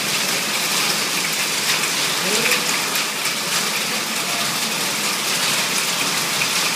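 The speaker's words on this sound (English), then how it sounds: "If you can hear that, that's the hail storm in the rain." Dense, steady hiss of heavy rain and hail pelting surfaces, loud and continuous with faint rattling throughout and no voices.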